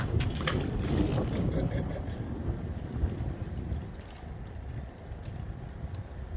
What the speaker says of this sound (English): that wind blowing don't make that cool air feel no better